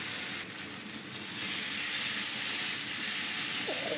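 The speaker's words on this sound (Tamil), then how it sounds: "இப்போ மேரினேட் பண்ண வச்ச மீன் ஃப்ரை பண்ணி எடுத்துக்கலாம்." Marinated whole fish and a tail piece frying in hot oil, a steady loud hissing sizzle that fills the whole stretch, close up and without talk.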